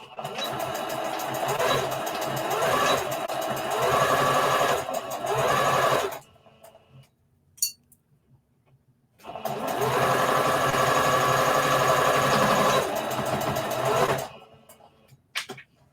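A sewing machine back stitches fabric at the V of an Easter bunny treat bag in two loud, close bursts of about six seconds each, with a quiet gap between them.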